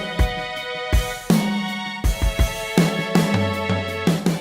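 String parts performed on Logic's software string sampler: sampled strings play sharp rhythmic chords that start together and swell in short phrases, loud, close and alone with no talking.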